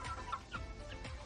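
Several chickens clucking close at hand, a steady run of short clucks spaced through the moment, alone without talk.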